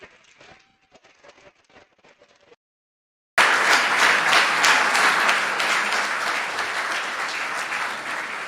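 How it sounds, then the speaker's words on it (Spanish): Applause from participants in an online virtual meeting, starting suddenly after a few seconds of faint, broken sound and continuing as loud, dense clapping that slowly eases off. "después les damos un aplauso"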